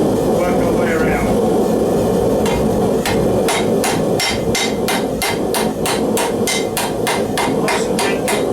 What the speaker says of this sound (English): we can watch somebody hit something with a hammer again